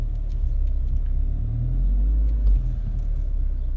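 A nearby car rumbles low and steady as it pulls out, its engine swelling slightly before easing off, heard from inside another car.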